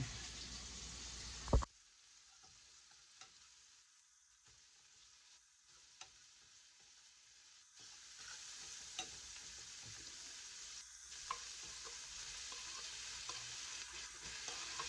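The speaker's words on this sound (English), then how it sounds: "I'm going to go over to the stove now and fry all this up." Vegetables for a vegetarian pizza topping fry on a stovetop, a soft steady sizzle with occasional scrapes and clicks of stirring, moderately close and without talk.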